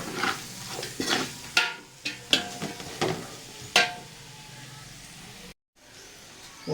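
Kasuri methi being stirred into a sizzling masala for mutton dum biryani, with a spoon scraping the pan in several sharp strokes over a steady frying hiss, close by, before a brief drop to quiet.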